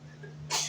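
A single short sneeze, fairly faint and quick, bursts out over a quiet indoor background during a casual conversation about women's boxing.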